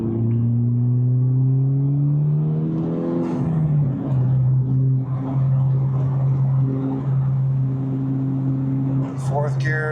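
A 2023 Honda Civic Type R with a six-speed gearbox pulls hard through the gears, its engine note rising in steps with shifts between, heard from inside the car as a steady loud drone.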